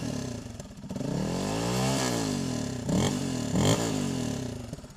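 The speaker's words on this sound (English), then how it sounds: "Modified stock exhaust. Probably sounds crappy on the video." Honda CRF300L motorcycle with a modified stock exhaust, revving up and down from idle in two swelling bursts, close and moderately loud, with a throaty single-cylinder tone and no talk.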